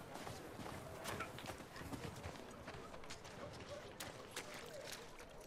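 Fast, continuous hoofbeats of a galloping horse in the video game The Last of Us Part II, over a dense, noisy background, steady and unbroken throughout.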